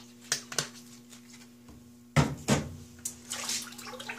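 A hand swishes water in a sink while washing alpaca fleece, with soft splashes and sloshing that grow busier halfway through over a steady low hum.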